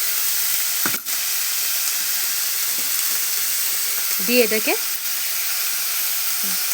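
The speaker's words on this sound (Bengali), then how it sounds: "আলু সবজি সব যা দিয়েছিলাম সবজিগুলো সব ভাজা ভাজা হয়ে গেছে" Potatoes and mixed vegetables fry in a pan for a semolina dish, giving a steady close sizzle throughout, with a brief stirring knock near the start and a short spoken phrase over the frying.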